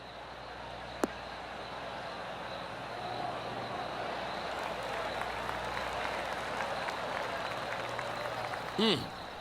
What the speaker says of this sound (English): That deserves a golf clap.